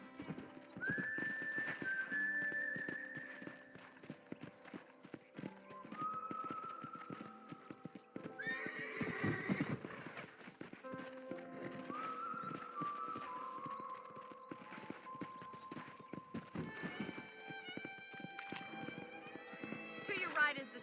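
A horse is ridden around a ranch in the video game Red Dead Redemption, with steady clip-clopping hoofbeats and an occasional whinny under ongoing character dialogue and tonal game sounds.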